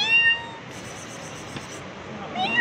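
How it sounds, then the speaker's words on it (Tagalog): Cat meowing close by, with a clear meow at the start and another at the end, over quiet background noise and faint voices. "Ay, ayang cute ng pusa."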